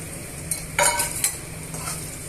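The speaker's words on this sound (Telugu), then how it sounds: "ఇలా ఉల్లిపాయ ముక్కల్ని కూడా వేసుకున్న తర్వాత ఇలా అన్నీ కూడా ఫ్రై చేసుకోవాలి" Beans and thinly sliced onions frying in a pan, a steady soft sizzle with a few brief stirring scrapes and clinks partway through, fairly quiet and close.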